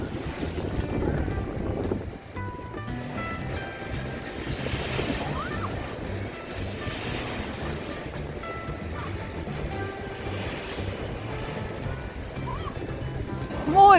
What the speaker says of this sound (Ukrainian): подивіться, які хвилі